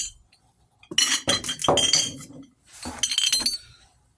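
Found glass objects, picked up near a property, clink and rattle together in two bursts of handling on a cluttered workbench, close and crisp with no talking.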